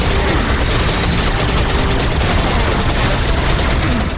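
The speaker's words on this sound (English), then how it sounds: "My favorite new effect is the laser gun's small electric explosion, which blows up the corpses of smaller enemy types." Laser gun fire and small electric explosions blowing up enemy corpses in the Serious Sam 4 fan remaster, a dense continuous barrage of rapid shots and bursts, loud throughout.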